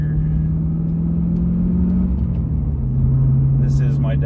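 A C4 Corvette ZR1 with a muffler delete drones as a steady low exhaust rumble while it accelerates in full power mode, the pitch dipping and then settling lower, heard from inside the car.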